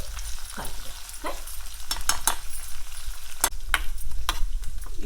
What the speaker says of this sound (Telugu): ఇవి తిరగమూత గింజలు వేగిపోయినాయి